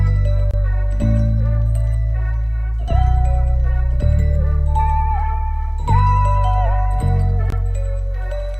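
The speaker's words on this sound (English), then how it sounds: "now all together, with all of our Kilohearts stuff, melody sounds like this" A synth melody processed with Kilohearts plugins plays bright, bell-like notes over a heavy low end. Chords change every second or so and the notes carry a slight pitch wobble, with no voices.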